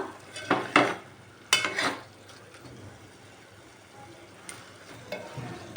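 A spoon stirs mutton, tomato and drumstick curry in a pan, giving several distinct scraping strokes and clinks over a soft, steady simmering sizzle, heard close with no talking.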